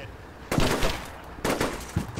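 Gunfire in the video game Combat Mission Shock Force comes as two sharp, loud bursts of rapid shots about a second apart, followed by a smaller crack, close and punchy with brief echoing tails.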